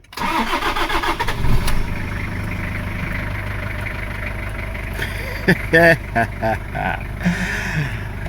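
A 2012 Toyota Fortuner diesel (LAN50) cranks briefly after battery voltage drop trouble, then catches and settles into a steady close idle, with a few clicks and handling noises later on.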